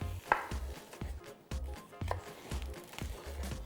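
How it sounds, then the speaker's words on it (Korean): Green onion being chopped with a knife on a cutting board in a steady rhythm of about seven crisp, near thuds, sounding alone. "하기 전에 요 파를 한번 썰어 놓겠습니다"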